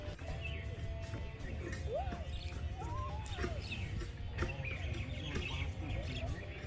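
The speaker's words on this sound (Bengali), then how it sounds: "সূর্যি মামার আলো ঝলকানি এবং পাখির কিচিরমিচির শব্দে পুরো এরিয়াটা মনোরম একটা এরিয়া হয়ে উঠেছিল" Early-morning birdsong near a campsite, scattered chirps and whistled calls from several birds at a moderate distance over a soft outdoor hush, no one talking.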